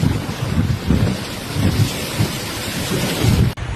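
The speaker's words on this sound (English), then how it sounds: "Typhoon Krathon batters Philippine Islands," Typhoon Krathon lashing the Philippine islands: a steady roar of wind buffeting the microphone over heavy, constant rain, with deep gusty rumbles swelling and fading throughout, loud and close with no voices.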